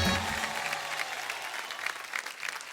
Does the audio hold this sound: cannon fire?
no